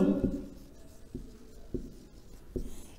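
A pen or chalk writes a word in a Bengali class: one scrape, then three short scratchy strokes spaced apart, close and quiet, with no speech.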